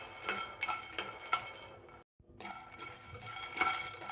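Dry fruits roasted and stirred in a pan over low heat for homemade dry fruit ice cream: a steady run of scraping and clinking strokes from a utensil, broken by a brief silent gap midway.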